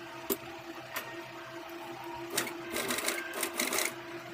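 A sewing machine stitches a waistband onto a size 40 katori blouse in short, uneven bursts of rapid clattering that grow busier toward the end. No one speaks.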